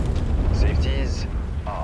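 A mech's reactor breach explodes in the MechWarrior 5 battle, a deep rumbling blast with bright crackling bursts layered over a continuous low roar, close and loud throughout.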